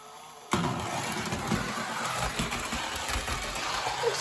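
A K-Line model Kennedy Space Center transport vehicle runs on a toy train track, its small electric motor giving a steady, close mechanical hum and whir that starts abruptly and continues evenly with no voices.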